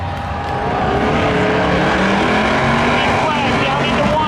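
Ford and Corvette race cars roar off together in a spectator drag at Seekonk Speedway, a loud, sustained engine howl rising in pitch as they accelerate, with a voice talking over the noise.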